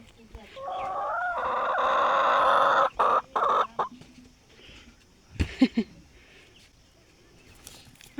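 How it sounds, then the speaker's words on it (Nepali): Giriraj chickens clucking close by in a continuous run of throaty calls, followed by quieter scattered clucks and brief rustling. "यो गिरिराज कुखुरा एउटा मात्र।"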